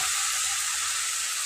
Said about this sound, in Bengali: আমি দেখুন ভালো করে কষিয়ে নিচ্ছি, আর 5 মিনিট আমি এটাকে কষাবো